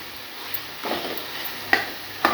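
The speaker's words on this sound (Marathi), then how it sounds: "तेलामध्येच फ्राय करायचे छानपैकी मस्तपैकी तेल सुटलेलं आहे" Fish pieces frying in oil with masala, a steady crackling sizzle with a few clicks and stirring scrapes, close and alone.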